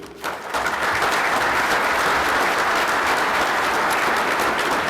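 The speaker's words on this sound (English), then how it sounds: "Please hold any further applause." A conference audience applauds steadily as economist Anirban Basu is welcomed to the stage at a Change Maryland event: dense, close clapping that swells within the first half second and holds evenly throughout, with no talking over it.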